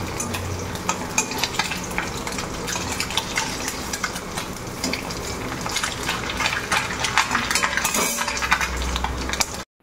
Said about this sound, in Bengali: এদিকে অল্প কিছু ছোটো মাছ ভেজে নিচ্ছি।